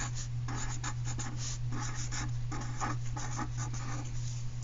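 A marker scratches across paper in steady, continuous short strokes while letters are written, close up, with a constant low hum underneath and no talking.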